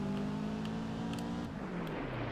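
A boxer-style car engine in Gran Turismo 4 on the Tahiti Maze license course drones loud and steady, its pitch holding, then dipping as the car slows partway through.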